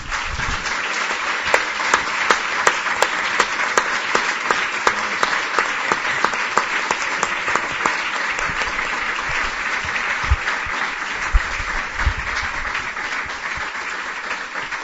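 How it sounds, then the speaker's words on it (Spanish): An audience at a church gathering gives warm, sustained applause, a steady wash of many hands clapping for the whole stretch with a few sharper claps poking through, without speech. "darles un fuerte aplauso caluroso"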